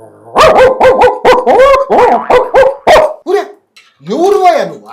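A man imitates a dog with a rapid series of loud, close woofs and yelps, followed by a short spoken question and a final drawn-out howl-like bark in a Telugu comedy skit.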